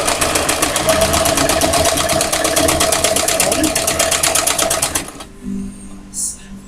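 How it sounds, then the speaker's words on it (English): A sewing machine stitches slowly along the edge of a fabric piece, its needle hammering in a fast, steady rhythm for about five seconds before stopping, with a brief voice and soft handling sounds afterward. "I'm going to sew along the edge, keeping the presser foot lined up with the edge of the fabric"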